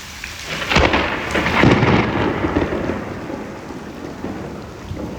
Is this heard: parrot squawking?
no